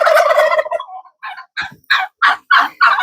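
Turkeys at a summer farm coop gobble loudly and close, one long rattling call followed by a rapid series of about six sharp gobbles, with no talking.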